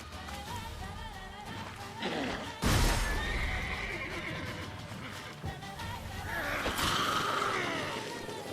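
Roach the horse in the Witcher 3 video game neighs loudly in two distinct whinnies, one sharp burst early and a longer call later, over a bed of game ambience and background sound.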